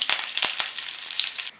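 Mustard seeds splutter and crackle in hot oil with curry leaves and dried chillies for sambar, a dense, loud sizzle with several sharp pops close by, cutting off abruptly at the end.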